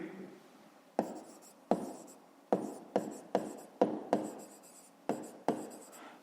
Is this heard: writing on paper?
yes